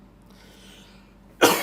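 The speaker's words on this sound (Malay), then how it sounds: "Cikgu dah mula batuk ni." A teacher coughs once, a sharp, loud burst that comes at the very end after a stretch of quiet room tone and faint breathing, with no speech.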